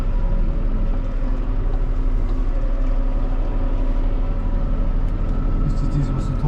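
A four-wheel-drive vehicle engine laboring uphill in four-wheel drive, a steady loud rumbling drone heard from inside throughout, with faint rattles near the end.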